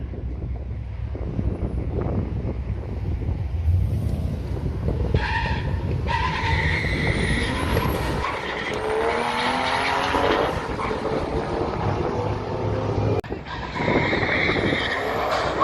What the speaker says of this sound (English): Bit of wheel spin.